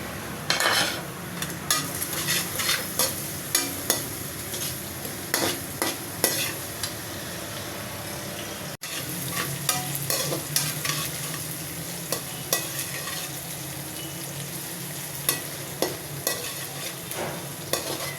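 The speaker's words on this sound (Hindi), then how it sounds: "अब प्याज में शामिल करेंगे ज़ीरा, लौंग, 2 बड़ी इलायची, जवित्री का पीस और काली मिर्च। इसको भी भून लेंगे।" Onions fry in a pan with cumin, cloves, two black cardamoms, a piece of mace and black pepper, giving a steady close sizzle broken by repeated scrapes and clinks of stirring, with no talking.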